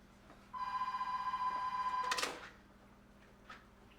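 A telephone rings with one long electronic trill lasting about one and a half seconds, fairly loud against a quiet room, and then cuts off abruptly with a clatter as it is picked up.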